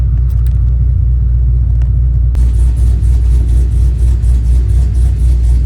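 A supercharged Pontiac GTO with a reportedly squealing belt is cold-started: a quiet buzz, then the engine catches and settles into a loud, deep, rumbling idle.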